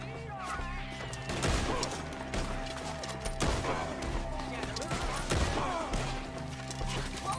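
Gunfire in Red Dead Redemption 2 during a shootout with enemies up in the trees: a few sharp, heavy shots spaced a couple of seconds apart over a busy bed of game music and effects, with voices shouting in the scene.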